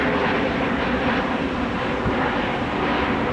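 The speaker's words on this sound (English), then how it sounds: "I don't know what plane that is." An airliner passes overhead in New York City, a steady broad engine roar that stays loud and even throughout with no talking.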